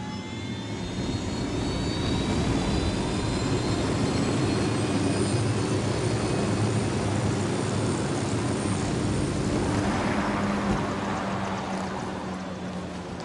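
Steady aircraft engine drone in Ghost Recon Wildlands, a continuous loud roar with droning tonal lines that holds for the whole stretch and brightens slightly toward the end, no talking.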